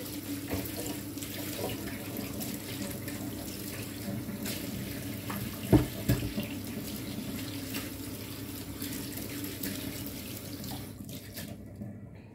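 Tap water runs steadily into a bowl at a sink, a continuous close splashing flow with a brief louder knock partway through and no talk.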